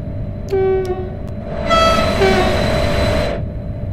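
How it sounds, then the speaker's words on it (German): A simulated S-Bahn RABe 523 electric train in Train Sim World 4 braking to a stop, with a tonal whine and electronic chimes over a steady rumble, loud and close. "nutzen Sie die dynamische Bremse, um den Zug anzuhalten"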